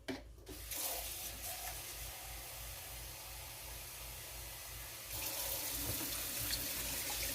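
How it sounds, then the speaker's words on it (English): Steady rushing water runs continuously, poured into a sausage gravy mixture while cooking, like a stream pouring from a tap or into a container, growing slightly louder and brighter near the end. "now we're going to put in some water"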